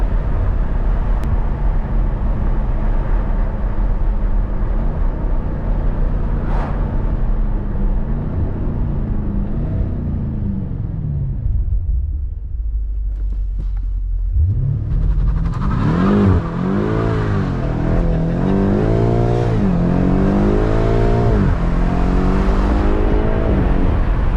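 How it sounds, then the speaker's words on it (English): A two-wheel-drive car launches hard from a loud rumbling idle, its engine note climbing through rapid revving gear pulls, close and forceful throughout. "I haven't done a two-wheel drive launch before."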